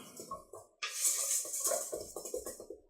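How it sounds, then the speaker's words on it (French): Sugar and vanilla sugar are stirred in a bowl for an apple tart, a faint tap, then a steady scraping swish with repeated light knocks of a spoon against the bowl. "On va mélanger un peu."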